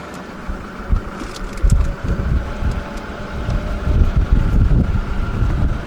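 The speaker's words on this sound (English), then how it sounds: "as it's windy" Blustery wind buffets the microphone with low rumbling gusts that rise and fall steadily throughout at an off-road campsite, no voices.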